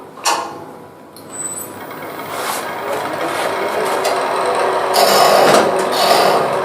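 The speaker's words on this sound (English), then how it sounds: "Just put a little bowl gouge here for a while just to get rid of some of this wood." Bowl gouge hollowing out a wooden vessel from the bottom on a lathe, a steady scraping rasp that swells louder in the second half, with brief pauses between cuts and no talking.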